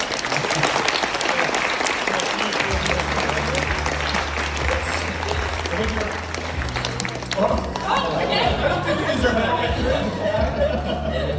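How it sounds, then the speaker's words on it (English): Applause from a conference audience at a tech company's anniversary creators event, dense and steady for the whole stretch, with low music and some crowd chatter running underneath. "let's give a round of applause to our wonderful panel"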